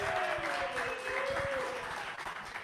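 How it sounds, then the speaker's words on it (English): A live crowd at a podcast event at a brewery applauds for Ice Cold Kenny, a dense, steady wash of clapping that holds throughout, with a voice briefly audible over it. "Everybody give Ice Cold Kenny a round of applause."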